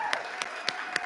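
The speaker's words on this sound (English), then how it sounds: "Let's all give them a round of applause." Four sharp, evenly spaced claps ring out in a short burst at a community recognition celebration, sparse and distinct rather than a full crowd ovation.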